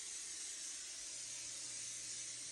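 Canola oil spray hisses steadily from an aerosol can onto beef and turkey meatballs, a continuous close, bright spray lasting a few seconds with no talking.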